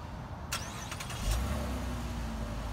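A 2017 Chevy Impala Premier engine cranks and starts by remote start, settling into a steady low idle after a couple of brief clicks and chirps.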